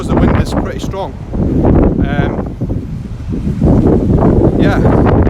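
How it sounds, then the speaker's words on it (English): Strong gusts buffet the microphone on an Edinburgh street, loud rumbling roars that swell and ease across the whole stretch, with a person talking under the noise. "It is windy here."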